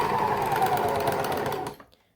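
A serger sewing machine runs fast and close while stitching doll leggings, giving a steady mechanical whirr for under two seconds before it stops abruptly and falls silent.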